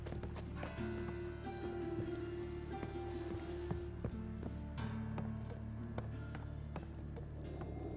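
Rhythmic clip-clop of horse hooves galloping in The Witcher 3 video game, over a steady background hum, with a few sharp clacks and no voices.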